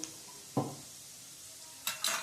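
Onions sizzle steadily in a hot pan, turning golden brown, with a couple of sharp scraping stirs cutting through the frying hiss.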